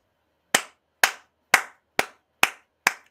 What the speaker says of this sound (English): I know you do the golf claps